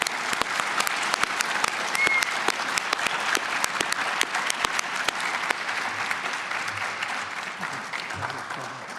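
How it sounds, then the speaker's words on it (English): Sustained applause from an audience at a presentation, dense steady clapping holding at an even level throughout, close and full, without talk. "Let's give him another round of applause."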